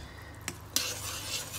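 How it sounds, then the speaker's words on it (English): A spoon scrapes and clinks briefly against a pot while stirring frothing butter and bicarb soda, two quick sharp knocks followed by a soft bubbling hiss. "Just to stir around quickly"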